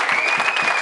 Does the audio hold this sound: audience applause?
yes